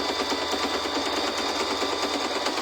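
A sewing machine running steadily through a straight stitch at a stitch length of about 2 while sewing a fabric bowl cozy, a continuous even mechanical whirr with a fast rhythmic needle patter, close and alone.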